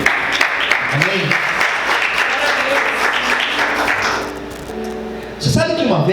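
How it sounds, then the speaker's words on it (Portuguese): A church congregation claps loudly and continuously during an evening service, with voices calling out over the applause, which thins after about four seconds before a brief spoken amen and a final burst of sound. "você pode dar glória a Deus e aplaudir o Senhor nessa noite?"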